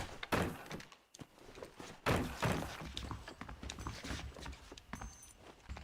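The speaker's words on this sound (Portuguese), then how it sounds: "Abrir baú." A wooden treasure chest creaks and thunks open in Red Dead Redemption, with heavy knocks and clatter at close range over a low background rumble.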